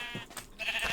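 A short, nasal bleat from a sheep in the game Minecraft, brief and moderately loud, ending in a sustained wavering tone.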